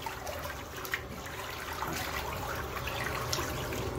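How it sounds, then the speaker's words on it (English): Water from a portable washing machine drains out through its drain tube into a tub, making a steady, soft trickling flow that runs continuously without talk. "Just let it drain out."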